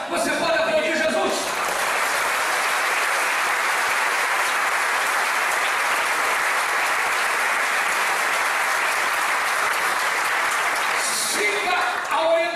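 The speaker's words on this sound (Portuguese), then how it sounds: "Você pode aplaudir Jesus?" Church congregation at a communion service breaks into sustained applause, a dense wash of clapping that swells in after a short pause, holds evenly for about ten seconds, then cuts off.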